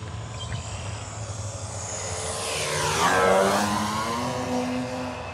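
Electric RC PT-17 Stearman biplane, 1600mm, running on 22.2 volts and flying a slow loop overhead, its motor whine rising and sweeping through a clear Doppler shift as it passes close, then droning away.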